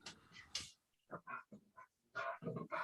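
A female dog snorts and grunts in several close, rough bursts, with short pauses between them.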